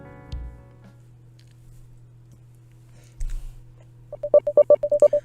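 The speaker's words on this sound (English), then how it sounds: "I have to phone my roommate that I'm going to be away for a few days." Telephone keypad dialing in a video game: a short run of about eight quick, clean electronic beeps at the end, following a couple of soft low thumps over a quiet steady hum.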